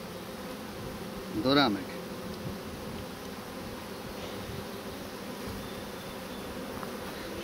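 Honey bees inside an opened wooden hive give off a steady, close buzzing drone, with one brief louder whine as a bee passes near; someone speaks a couple of words briefly.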